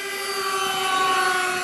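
A LearJet's engine runs at an airfield, giving a steady, loud, high-pitched jet whine with strong tonal hum that holds unchanged throughout, with no speech over it.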